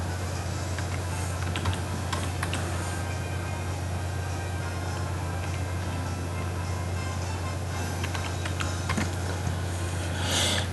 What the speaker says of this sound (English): Now type in the IP.